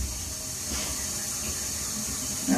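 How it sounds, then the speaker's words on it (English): Water runs through a buried line or pipe, a constant low rushing hiss that holds steady throughout the short moment. "Hoping this will let us run some water here."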